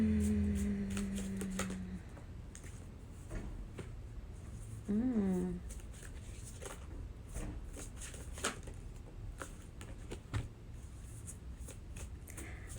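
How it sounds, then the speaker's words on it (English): Rapid riffling and flapping of playing cards being shuffled over and over, close by, with a brief spoken phrase partway through. "I think I gotta shuffle this one a little more."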